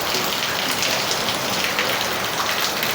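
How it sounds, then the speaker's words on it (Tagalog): Heavy rain pours down in a constant dense hiss, loud and unbroken for the full three seconds with no other sounds standing out. "lakas ng ulan"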